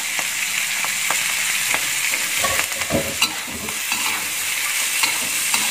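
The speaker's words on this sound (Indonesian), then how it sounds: "Kita aduk-aduk sebentar" Shrimp and sausage get stirred in a frying pan, with a loud steady sizzle and scattered scraping clicks of the utensil close by.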